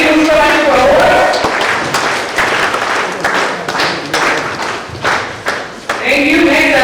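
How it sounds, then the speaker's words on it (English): A crowd claps for a student at a scholarship award ceremony, a dense mix of many hands with irregular sharp claps and thumps, loud and close, tapering briefly before swelling again, with some speech-like sounds mixed in. "Let's clap for Andati receiving an Elimu Scholarship Award."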